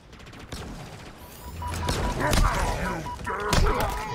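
Gunfire in the Halo Infinite campaign, a handful of sharp shots and thuds spread over several seconds amid game ambience and effects, moderately loud with no talk.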